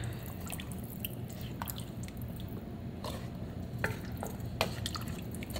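Peas and water stirred in a cooking pot, faint wet sloshing with scattered small clicks and drips against a low steady background.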